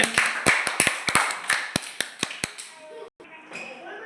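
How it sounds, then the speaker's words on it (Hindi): Children clap loudly in a classroom during a lesson on learning multiplication tables, with a dozen or so sharp, uneven claps in a quick burst that thins out toward the end. "तालियां बजाओ जोर से"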